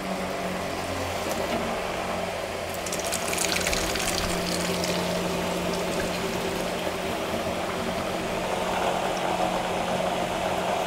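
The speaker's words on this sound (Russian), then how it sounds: "Поплавок поднимается, срабатывает концевик, включается насос." A quiet float-switch water pump on a cold-water line kicks in and keeps running with a steady low hum, over trickling and splashing water, fairly close.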